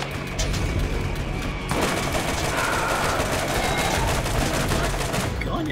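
Rapid automatic gunfire in the video game Borderlands, a dense, continuous rattle of shots from start to finish that grows louder and fuller partway through.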